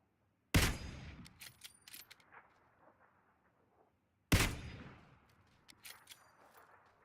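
Two loud, sharp gunshots from a sniper rifle in a video game, each with a long echoing tail that fades over several seconds, spaced about four seconds apart with quieter clicks between.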